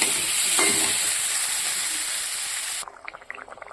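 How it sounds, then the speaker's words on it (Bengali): Potato and pointed gourd sizzle hard in a pan with ground spices, a loud steady hiss that cuts off abruptly near the end, leaving quieter scattered crackles and stirring clinks. "এবার আলু পটলটা দিয়ে কষিয়ে নেব"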